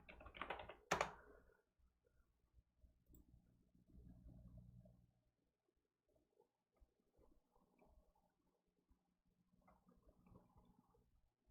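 Computer keyboard typing during an Angular coding session, a loud burst of quick keystrokes at the start followed by softer, scattered clicks and taps spread across the rest of the quiet stretch.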